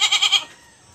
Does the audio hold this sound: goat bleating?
yes